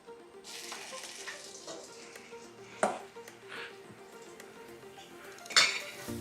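Korean tofu patties sizzle steadily in a frying pan amid clinking utensils and dishes, with two sharper metallic clanks standing out; no one speaks.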